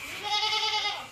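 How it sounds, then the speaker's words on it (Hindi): A dairy goat lets out a single close, nasal bleat lasting about a second, with nothing else heard around it. "दूध वाली बकरी है"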